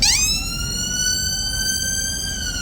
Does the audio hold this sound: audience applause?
no